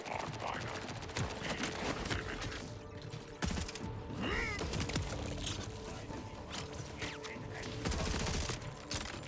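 SMG fire in the Borderlands 4 shooter game: rapid clattering bursts of automatic fire mixed with mechanical clanks and busy game effects, a dense continuous din with no clear pauses.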